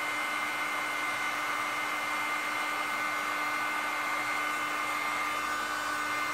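Seized power window motor in a 1965 Ford Thunderbird convertible whines steadily with a constant electric hum and tonal drone, continuous and unchanging throughout, with no voices.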